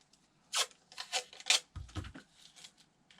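Masking tape being torn and pressed onto a sculpture armature, heard as close, sharp ripping bursts and crinkly rubbing, with a short low thump midway and quiet gaps between.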